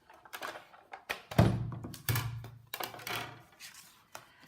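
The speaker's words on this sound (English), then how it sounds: "I'm going to run it through the Big Shot, and that will emboss the front of my card" A Big Shot die-cutting machine cranks an embossing folder and card through its rollers, giving several close, dull thunks and grinding rolls with low rumbling passes in an irregular rhythm, no talking.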